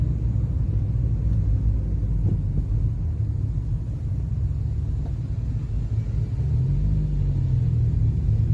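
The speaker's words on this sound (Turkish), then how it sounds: "Tır geldi." A heavy truck rumbles past in busy Ankara city traffic, heard from inside a car during a driving lesson as a loud, continuous deep drone that stays steady throughout.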